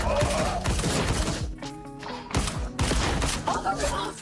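Dense bursts of gunfire from a co-op viewer video game, heavy and continuous through most of the stretch with a brief lull in the middle, mixed under game sounds and effects.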